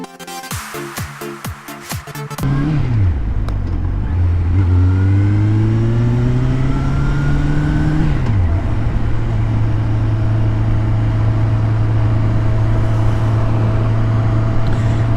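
A motorcycle on an open road runs loud and close, with a short idle before the engine revs up through a couple of gear changes and settles into a steady cruising drone.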